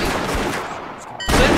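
Gunfire in a Roblox Wild West game, loud and close: a noisy spray of shots, a brief lull, then a sharp renewed blast near the end.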